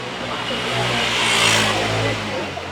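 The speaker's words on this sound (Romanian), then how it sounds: "Trec și scuterele." Scooters pass along a street beside a Sicilian fish and seafood market, a steady engine drone that swells toward the middle and fades, with crowd murmur and voices throughout.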